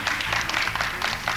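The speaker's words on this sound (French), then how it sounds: "Tout d'abord, il y a Muriel, qu'on applaudit." Studio audience applause on a French-language game show, a steady wash of many hands clapping at moderate level across the whole short stretch with no voices over it.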